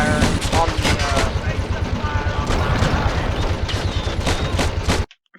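Dense, continuous battle gunfire with heavy booming shots and rapid bursts from a Plastic Army Men video game, including a howitzer firing among the barrage, loud and nearly unbroken until it cuts off abruptly at the end.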